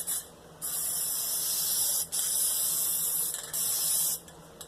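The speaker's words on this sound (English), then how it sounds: "So I'm going to see what it does if we spray some of that on there." Three bursts of aerosol wood toner spray hiss close by onto a wooden drawer front, each lasting over a second with short pauses between them.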